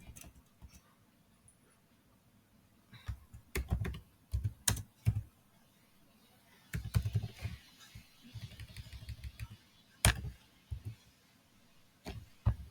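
Fingers type on a computer keyboard, soft key taps coming in uneven bursts with pauses between, close and quiet with no voices.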